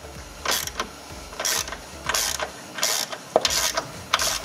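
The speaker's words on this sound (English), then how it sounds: "disconnect the negative cable first" A ratchet wrench loosens the nut on the negative battery terminal of a Dodge Journey, about six quick clicking bursts in a steady rhythm, close up.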